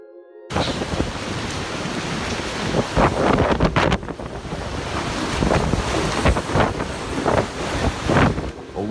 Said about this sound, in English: A water spout swept through San Remo, Italy, shattering windows and sparking street-wide panic in seconds.